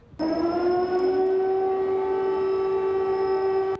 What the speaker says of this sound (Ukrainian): У момент розмови лунає сирена.